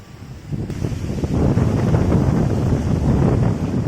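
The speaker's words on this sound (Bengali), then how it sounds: "সরসর করে কি হাওয়া দিচ্ছে গাছে" Strong wind rushes steadily through trees beside an open pond, a broad whooshing roar that swells after the first half second and stays loud, with no voices.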